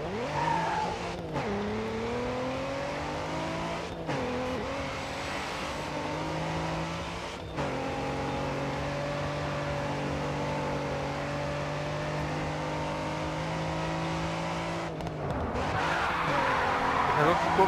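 A Mustang race car in the Grid 2 racing game drifts through a corner, its engine droning steadily while the tires squeal and skid, with a few sharp gear-shift breaks and rising revs at the end.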